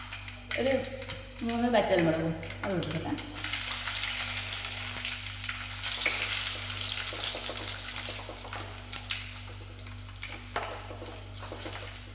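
A voice speaks briefly. Then mustard seeds and dal start frying in hot oil, giving a loud, steady sizzle with faint crackles that carry on alone.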